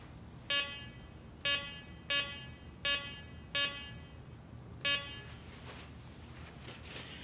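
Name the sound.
Garrett PD6500i metal detector gate alarm detecting test knife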